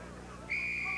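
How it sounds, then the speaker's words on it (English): A referee's whistle at a 1984 USA rugby national club championship match between Dallas and Los Angeles gives one sharp, steady blast that starts midway and holds to the end over a low crowd background. "And a whistle by Ian Nixon."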